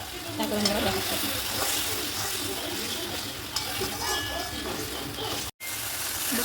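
Poppy seed paste loosened with a little water hisses and bubbles in a pan under steady stirring, producing a continuous close sizzle with a brief dropout near the end.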